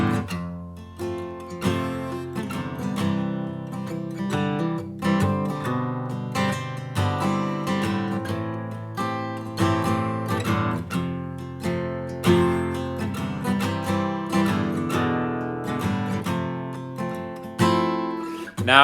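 An acoustic guitar plays the verse of a song in standard tuning, steady fingerpicked chords ringing out close and clear for nearly twenty seconds with no voice.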